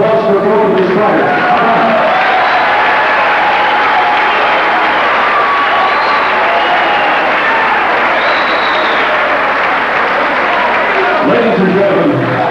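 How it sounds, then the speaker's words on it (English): Crowd at a live fight event gives sustained applause and cheering after a bout between two strikers, a dense, steady wash of clapping and voices filling the hall for the full stretch. "a nice round of applause for both of the strikers."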